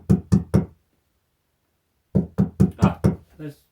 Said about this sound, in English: I think I hear someone at the door.